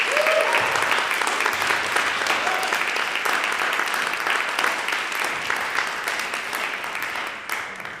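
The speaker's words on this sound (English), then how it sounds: "round of applause" Audience applause fills a master class with operatic tenor Bryan Hymel, a dense steady clapping that carries on for several seconds and tapers slightly toward the end.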